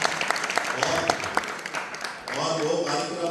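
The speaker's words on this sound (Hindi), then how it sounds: "तालियां हो जाए।" Audience applause at a Jain community gathering: dense, steady clapping from a crowd for about two seconds, then easing into softer, continuing applause with some voices underneath.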